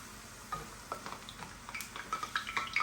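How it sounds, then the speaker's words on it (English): Quiet sizzling of tortillas frying in hot oil, with scattered crackles and pops that grow more frequent toward the end. "I think that's looking about hot enough to start frying our tortillas."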